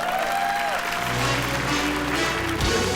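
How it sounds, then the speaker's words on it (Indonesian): Studio audience applause for contestant Olis on an Indonesian stage show, a steady dense wash of clapping with music and low tones running beneath it throughout. "Tepuk tangan dong. Semangat untuk Olis."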